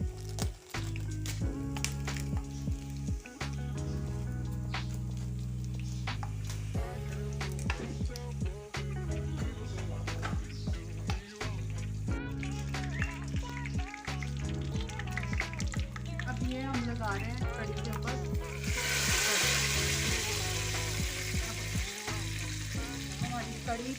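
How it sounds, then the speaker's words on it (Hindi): Cumin seeds, round red chillies and a green chilli crackle and sizzle in hot oil as a tadka for kadhi, a close, continuous frying hiss with sharp pops and a stronger burst of sizzling near the end. "इसका लगाएंगे कड़ी के ऊपर तड़का।"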